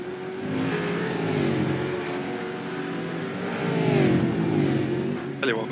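Supercars race cars accelerating hard along a track toward Canada Corner, a sustained loud engine roar rising in pitch, with a commentator talking over it and a brief sharp burst near the end.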